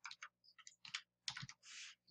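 A computer keyboard is typed on in quick irregular bursts of key clicks, close and quiet, with a longer held keystroke at the end.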